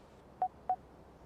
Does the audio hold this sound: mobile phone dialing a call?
yes